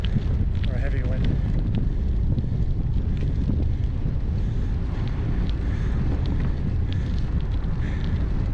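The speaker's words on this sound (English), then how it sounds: "The wind's pushing really hard" Strong storm wind buffeting a microphone during a bicycle ride, a loud continuous roaring rumble throughout, with faint traces of a voice underneath.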